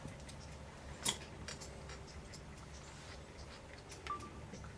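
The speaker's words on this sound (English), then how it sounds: "just do trims with the tips of the scissors" Scissor tips trim the fur on a collie's head in quiet, scattered snips, with one sharper close cut near the start and soft clicks after it against low room noise.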